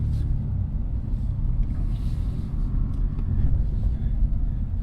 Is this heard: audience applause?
no